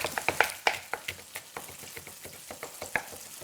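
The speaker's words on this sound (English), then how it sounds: "While the tofu is frying" Tofu fries in a pan with a steady sizzle, broken by frequent sharp crackles and oil pops at an irregular, quickening rhythm, close and moderately loud with no talking.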